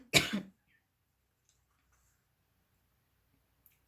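A single short cough, close and clear, followed by near silence.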